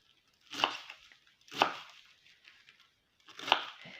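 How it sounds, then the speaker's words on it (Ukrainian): Young, soft cabbage being finely shredded with a knife, three distinct crisp cutting strokes spaced about a second apart, close and fairly loud, with quiet pauses between. "Капусту я нашиткую дрібно."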